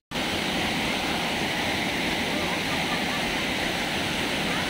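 Loud, continuous roar of the Damar Wulan waterfall heard up close, a dense unbroken wash of rushing water filling the whole clip without voices.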